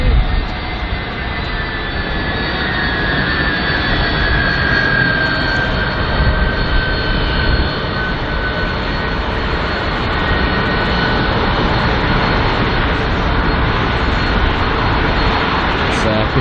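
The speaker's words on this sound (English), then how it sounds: "Next up though is the Virgin Atlantic A350. And this one's arriving from Los Angeles" Virgin Atlantic Airbus A350 arriving at London Heathrow from Los Angeles, a loud, continuous jet engine roar with a faint high whine that holds steady and close for the whole stretch.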